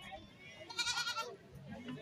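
Goats bleating at a goat market in Blitar, a wavering cry rising over a busy background murmur of voices and crowd noise, moderately distant.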